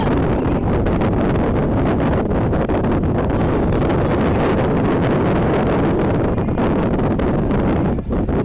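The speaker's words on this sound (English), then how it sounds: "the wind is blowing" Strong, gusting wind buffets the microphone at an outdoor high school baseball game, a steady loud roar with no voices.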